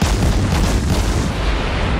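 A heavy artillery volley from the cruiser St. Louis in the World of Warships video game, a loud, dense roar of booming gunfire that fills the whole moment without pause.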